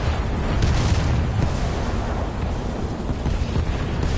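A tank explodes as it is destroyed in War Thunder, a loud sustained rumbling blast with dense low roar and no voices.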